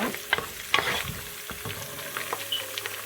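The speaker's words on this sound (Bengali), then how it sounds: "এখন রসুনটাকে বেজে নেব" Chopped garlic frying in a pan for a Sylheti satkora pickle, a close hissing sizzle broken by several scraping stirs and clinks of a spatula, with no voices.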